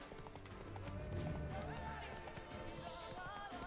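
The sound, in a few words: horse Roach galloping in a video game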